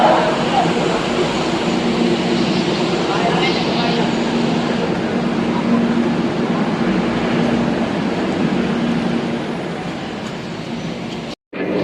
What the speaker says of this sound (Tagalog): as you can see, the train will be waiting for you